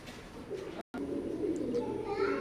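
A pair of golden teddy pigeons coo softly in low, continuous murmurs, with a brief dropout early on and some faint higher calls near the end, close by.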